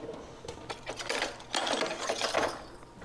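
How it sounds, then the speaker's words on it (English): Rapid, steady whisking of apple cider vinegar into coconut milk, a close, busy clatter of the whisk against the bowl that rises and falls in quick strokes. "We're going to whisk that together."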